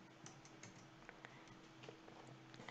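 Someone types the ipconfig command into a command prompt on a computer keyboard, producing faint, quick, irregular key clicks over a low background hum.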